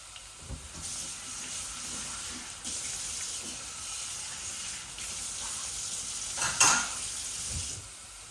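Garlic cloves frying in oil give a soft, continuous sizzle and hiss with a few swells and one sharper spattering burst, heard close and quiet with no talking.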